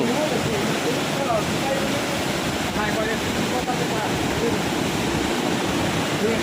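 Steady, continuous rush of Tad Yuang waterfall in Laos, a broad even roar with no breaks, loud and constant throughout.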